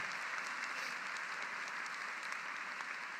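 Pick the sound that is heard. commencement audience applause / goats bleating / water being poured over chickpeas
commencement audience applause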